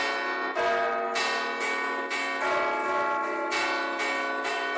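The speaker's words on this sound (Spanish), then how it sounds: "nuestro campanario es muy especial, porque se toca con tres campanas a la vez" Three church bells ring together from a bell tower, producing loud, rich metallic peals struck in quick, overlapping succession with long sustained resonance, and no talking.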